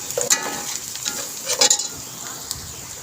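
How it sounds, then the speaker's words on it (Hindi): Onion fries in a pan with turmeric and salt, a soft sizzle under scattered scraping stirs and light clinks of a spoon against the pan, close and moderately loud, without voices. "इसको प्याज को जो है ना अच्छी तरह फ्राई कर लेंगे।"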